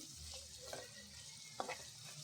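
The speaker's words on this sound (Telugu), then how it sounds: "మనం ముందుగా మ్యారినేట్ చేసి పెట్టుకున్న ఈ ప్రాన్స్ని అయితే ఆయిల్లో వేపుకోవాలి." A quiet, steady frying hiss of marinated prawns cooking in oil, with a couple of faint stirring clicks.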